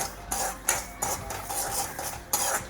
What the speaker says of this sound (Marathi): खसखस मंद आचेवरच भाजायची आहे आणि जास्त लाल करायची नाही आहे.